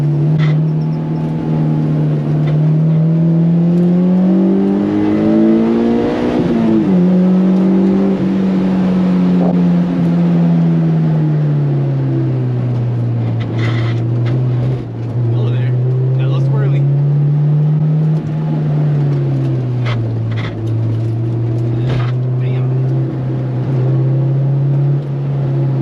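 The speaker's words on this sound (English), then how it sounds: "Downshifting the second just because the car has no power out of VTEC." Honda S2000 driven with the top down on a canyon road, downshifted into second: a loud, sustained engine note that climbs sharply, then rises and falls as the revs change, heard from the cabin.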